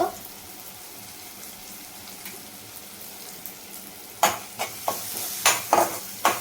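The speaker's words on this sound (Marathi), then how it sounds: "परतून घेऊया" Black pea curry with garam masala, turmeric and asafoetida is sautéed in hot oil, a low background sizzle followed by a run of sharp scraping stirs against the pan near the end.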